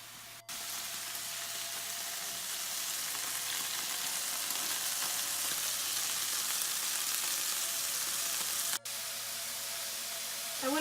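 Meatballs sizzle and fry steadily in a hot pan for a Roman-style stew, a loud, even crackling hiss that runs nearly unbroken, with one brief dropout near the end.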